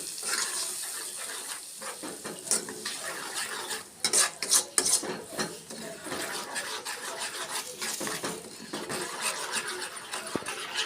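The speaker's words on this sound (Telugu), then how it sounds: "తాలింపు మగ్గిన తర్వాత మనం మిక్సీ చేసుకున్న టమాటా పచ్చడిలో కారం కలుపుకున్నాం కదా, దాన్ని అలా తాలింపు వేసుకోవాలి." A spoon stirs and scrapes tempering into spicy tomato chutney in a pan. The scraping scrapes on continuously over a soft sizzle, with a cluster of louder clinks midway, and no voices are heard.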